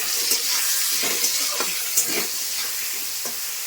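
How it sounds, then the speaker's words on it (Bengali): Potatoes and eggplant fry in a pan with salt and turmeric, a steady broadband sizzle running throughout while a spoon stirs in several scraping strokes, close and fairly loud. "এখন আলু বেগুনগুলো দিয়ে দিচ্ছি, লবণ দিচ্ছি স্বাদ মতন, হলুদ দিচ্ছি। এবার নাড়ি দিচ্ছি"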